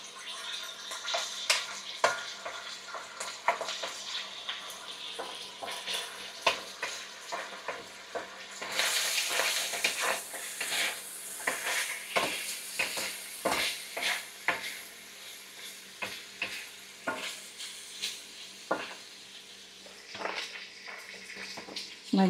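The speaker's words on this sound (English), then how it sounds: "I will add little bit of oil so I can saute the garlic" Garlic sautéing in oil in a pan, a steady sizzle with repeated stirring clatter that grows brighter and more intense partway through, no talk.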